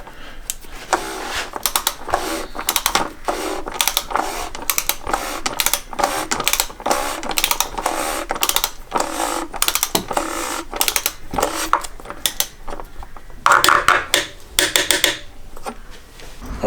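A ratchet or torque wrench clicks repeatedly while tightening the oil filter housing lid on a Porsche Cayenne 958 3.0 TDI V6 diesel, a dense run of close, sharp ticks and rattles in irregular bursts, with no speech.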